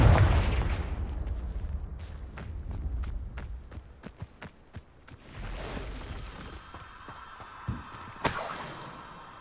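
Confringo fire spell explosions in the Hogwarts Legacy video game, a heavy opening blast followed by a rhythmic series of sharp impacts, then further bursts and crackling, fairly close and loud.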